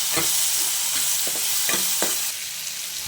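Tomatoes with coarse salt sautéing in a pan for sambar, a continuous close sizzle with a few quick stirring scrapes, no talking.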